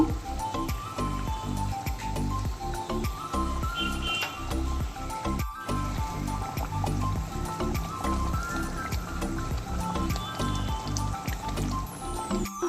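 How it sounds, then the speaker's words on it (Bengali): Pabda fish go into a boiling sour-spicy-sweet gravy in a pot, with a steady bubbling, rhythmic pulsing boil and light sizzling that continue without pause, close and moderately loud. "এবার আমি এর মধ্যে মাছগুলো অ্যাড করে দেব।"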